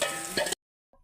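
Cumin, mustard seeds and garlic hitting hot oil in a home kitchen pan, a loud, steady hiss of sizzling for half a second before cutting off, followed by a faint brief sound.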